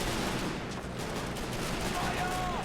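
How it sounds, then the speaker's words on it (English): Heavy American artillery pounding in the Men of War: Assault Squad battle on the Rhine, a dense continuous roar of booming shell fire and blasts, loud and unbroken throughout. "It's the American heavy artillery."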